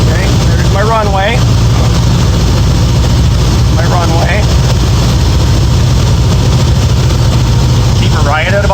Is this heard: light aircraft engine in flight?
yes